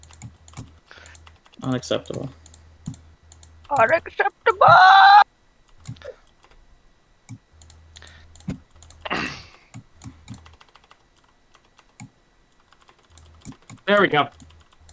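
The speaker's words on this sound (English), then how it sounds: "I'm typing something out." Fast, close computer keyboard typing comes in bursts of rapid clicking, with pauses between runs and a voice speaking briefly over it a few times.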